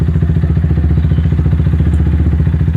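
A motorcycle engine runs loud and close with a fast, even thumping pulse as the clutch is let out, the rhythm holding steady throughout with no talking.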